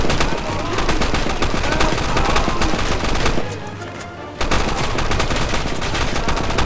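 Dense automatic gunfire from a Roblox Call of Duty: Modern Warfare II match rattles loud and near, breaks off for about a second, then resumes at full intensity.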